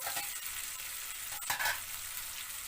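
Hot cooked rice is stirred into a soft tomato mixture in a pan, a quiet steady sizzle with a soft scraping stir near the middle.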